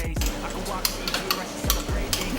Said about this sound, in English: add the wine and leave to evaporate